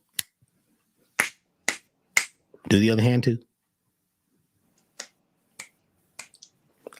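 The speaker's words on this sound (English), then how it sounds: "Snap your fingers 3 times." Sharp finger snaps made with one hand and then the other during a live Q&A session, isolated clicks spaced about half a second apart, with a short spoken instruction between the two sets.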